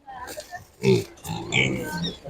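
Landrace and Pietrain cross piglets at an animal market, giving short, close grunts and snuffles that come and go in bursts, mixed with people talking nearby.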